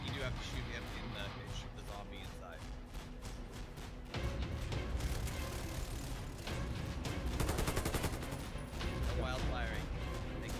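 Rapid gunfire from the online shooter game Warface crackles nearly nonstop in dense volleys, while players talk over the shooting throughout.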